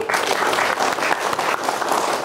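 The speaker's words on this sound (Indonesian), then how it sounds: "tepuk tangan untuk Pak Egi." Audience applause at a school event at a vocational high school, steady and dense clapping from a crowd throughout, fairly close and loud with no talk over it.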